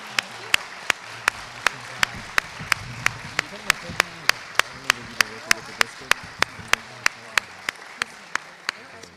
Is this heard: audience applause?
yes